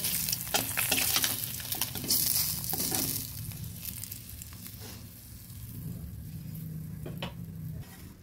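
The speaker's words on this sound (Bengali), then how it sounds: "সবগুলো মাছ হালকা ভেজে তুলে নিলাম।" Koi fish shallow-frying in hot oil, a steady close sizzle with light stirring and utensil clicks, sound alone without talk.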